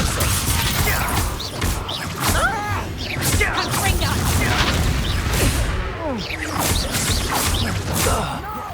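Spell-combat effects from Hogwarts Legacy, with the Confringo blast among crashes, whooshes and booms that stay dense and loud throughout, while a voice speaks over the action.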